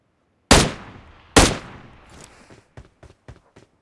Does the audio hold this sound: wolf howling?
no